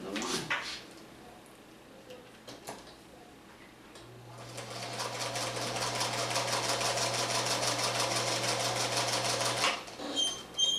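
A sewing machine stitching a pineapple quilt block runs in a steady, fast mechanical whir for about six seconds, close and moderately loud, after a quieter stretch with some faint handling noises.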